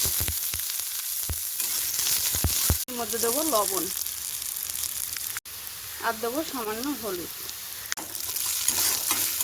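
Whole cumin, dried chillies and onion sizzle steadily in hot oil in a wok, a close, continuous crackling fry with someone talking over it.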